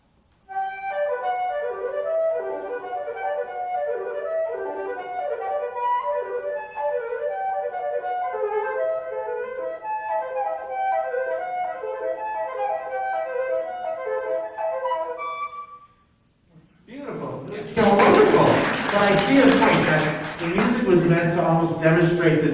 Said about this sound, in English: I'm just gonna play an excerpt of piece by Johann Joachim Andersen, Danish flutist